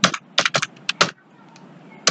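Quick bursts of keystrokes on a computer keyboard, a cluster of close, crisp clicks, a pause with faint background hiss, then one more keystroke.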